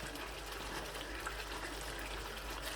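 Water poured into chickpea masala cooking in a pot, a steady, fairly quiet gushing pour that runs unbroken and alone throughout.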